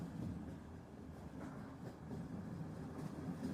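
Train rolling along rails at a distance, a low steady rumble with faint rhythmic clatter, quiet and unaccompanied by voices.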